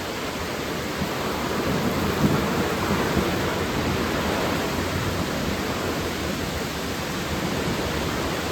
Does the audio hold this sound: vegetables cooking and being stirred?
no